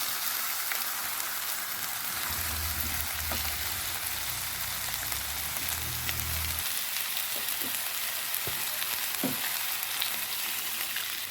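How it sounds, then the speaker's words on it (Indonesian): Spice paste for Manado-style woku snapper sizzles quietly in a pan while being stirred, a soft continuous crackle with a low scraping rumble midway and scattered clicks of the utensil, no voices. "kita aduk-aduk dulu supaya bumbunya tercampur"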